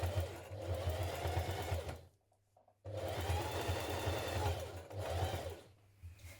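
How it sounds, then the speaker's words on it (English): Stitching along the folded upper edge of a dungarees pocket, a sewing machine hums in two close runs split by a short pause. "Now stitch along that upper edge of the folded part of your pocket from the outside."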